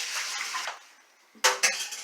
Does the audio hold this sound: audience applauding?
no